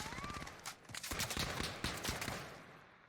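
Rapid bursts of gunfire in the Warzone video game, a dense crackling volley of overlapping shots fading toward the end.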